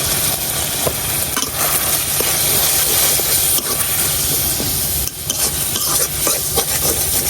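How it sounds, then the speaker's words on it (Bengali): A spice paste of turmeric, coriander and dried chili powder with salt sizzles steadily in a pan while being stirred and scraped, ahead of a thin fish curry; the frying hiss is loud and continuous, with no talk. "এখন আমি এই মশলাটারে দুই তিন মিনিটের মতো কষাই নিই"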